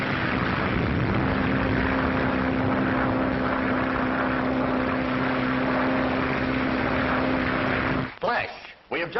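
A propeller plane drones steadily through storms over the Atlantic Ocean, a loud continuous engine hum with a fixed tone that holds for several seconds before cutting off abruptly near the end.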